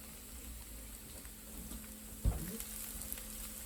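Onions frying with green onions and garlic for orange chicken, a faint steady sizzle with one brief clatter partway through as they are stirred, no talk.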